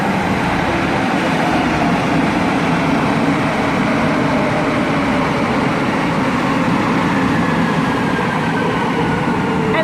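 Steady, loud rumble and rattle of a purple passenger train in motion in southern Sweden near Malmö, heard from inside as a continuous broadband roar with no talking.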